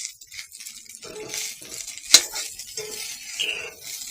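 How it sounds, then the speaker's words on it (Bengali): A metal spatula scrapes and clinks against a pan in quick irregular strokes as rice is stir-fried with onion, garlic, green chilli, coriander, turmeric and salt, with one sharper clatter midway. "সকালের নাস্তার জন্য আমি এইখানে রাইস ভাজতেছি।"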